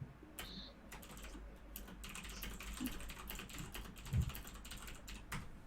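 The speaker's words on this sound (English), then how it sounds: "Furious typing." Rapid, furious typing on a computer keyboard, a steady stream of close clicks with no voices over it.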